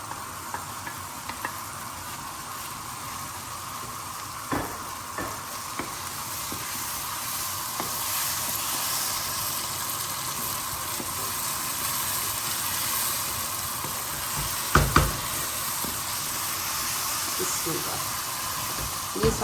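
Tomato puree poured into pink-fried onions in a hot pan while cooking masala bharwan tinda, giving a steady broad sizzle throughout with light stirring and a couple of sharper spatters near the end.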